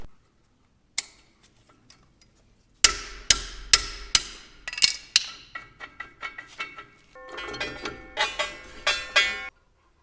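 Metal clanks and ratcheting taps from a wrench tightening a castle nut on a loose disc-harrow blade gang, a few isolated knocks first and then a steady run of sharp near strikes and clicks.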